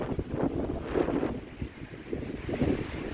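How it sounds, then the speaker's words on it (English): Gale-force wind batters the microphone at a grassy beach campground with picnic tables, a loud buffeting roar that gusts and surges with heavy surf behind it. "It's a gale force wind."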